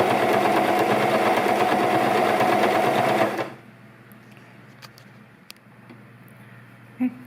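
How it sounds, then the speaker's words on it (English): A sewing machine stitches fabric with a loud, fast, even whirring hum for about three seconds, then stops, leaving a quiet room with a few small clicks and a faint thump. "And then I'm going to stitch all the way down."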